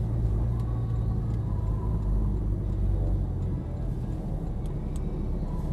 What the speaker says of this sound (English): We'll park next to this Porsche.